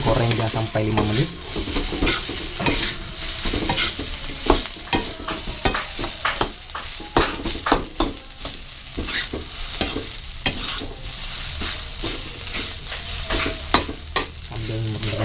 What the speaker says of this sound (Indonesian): Oke, goreng dia sampai 5 menit.